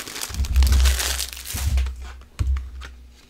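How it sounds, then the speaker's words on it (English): Plastic packaging crinkles and crackles loudly up close as a CD is pulled free, with bursts of crumpling and a few sharp snaps of the wrapper. "Take it off of the packaging."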